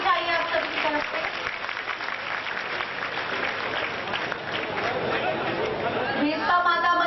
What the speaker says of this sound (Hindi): मैं चाहूंगी जोरदार तालियां बजनी चाहिए आप सबकी तरफ से